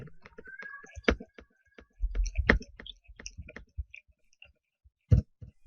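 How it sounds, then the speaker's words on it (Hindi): Sparse clicking of computer keyboard keys, a few isolated taps and short bursts with gaps between them, close and fairly quiet, with no voice over them. "सिंपल टाइप करना शुरू कर दें।"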